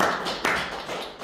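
Church congregation applauding together after a prayer in a Korean worship service, a dense wash of many hands clapping at moderate distance, fairly quiet and tailing off.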